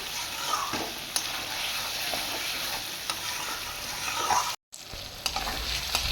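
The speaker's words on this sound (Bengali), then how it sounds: "আমি এটা চার পাঁচ মিনিট একটু নাড়া কষিয়ে নেবো আদা রসুনটা দিয়ে" Ginger garlic paste stir-fried in a pan for fish curry sizzles continuously with scattered spatula scrapes, breaking off for a moment of silence before the frying resumes, with no voices.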